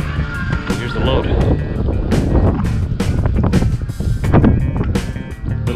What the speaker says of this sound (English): Windy, I'll try to keep you out of the wind.